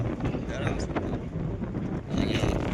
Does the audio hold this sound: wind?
yes